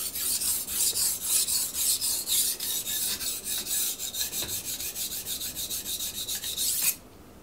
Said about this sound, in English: It feels like it's skating a bit on the top of the stone, but it is removing metal.